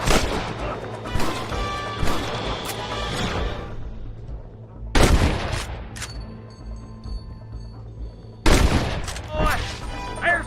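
Gunshots in the western video game Red Dead Redemption, three loud bursts of gunfire spaced several seconds apart with ringing decays, game voices and music around them.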